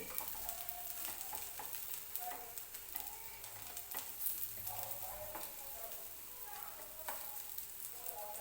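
Eggplant slices frying in a pan until crisp outside and soft inside, a steady close sizzle with scattered pops and spatula scraping as the slices are turned, no talking.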